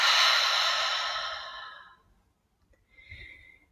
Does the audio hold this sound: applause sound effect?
no